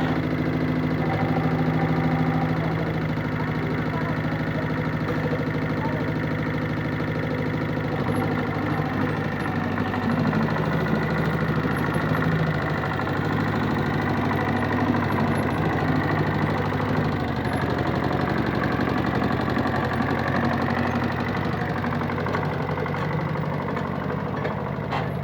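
A small tractor hitched to a three-furrow English plough runs steadily, its engine holding a constant, close, idling drone with no voices over it.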